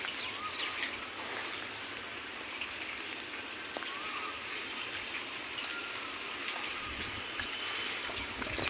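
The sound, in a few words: rain falling in Rajkot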